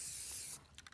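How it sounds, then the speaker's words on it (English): A spray paint can hisses in one steady, close burst for about half a second during hydro dipping of scooters, then cuts off, leaving faint clicks. "I'll tell you when you can spray, okay?"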